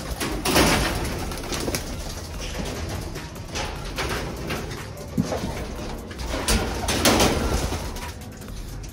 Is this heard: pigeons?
yes